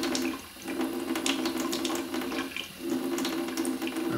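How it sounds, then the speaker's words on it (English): Running water from a tap rinses a fountain pen cap, giving a steady close splashing stream that briefly dips twice as the flow is interrupted, with no talk. "there will be a little bit of running water in this video"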